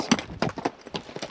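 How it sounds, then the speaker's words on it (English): Horses walk along a trail in the Superstition Mountains, their hooves giving close, uneven clip-clop strikes roughly every quarter second over a quiet outdoor background. "Beautiful horses."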